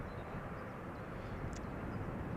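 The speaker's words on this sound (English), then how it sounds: "taxiing towards the runway threshold. So it looks like the special livery from German Airways" A German Airways airliner in a special livery taxis toward the runway at Amsterdam Schiphol, its engines a steady, broad, distant rumble that holds level throughout with no voices.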